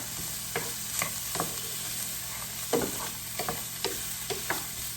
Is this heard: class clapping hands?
no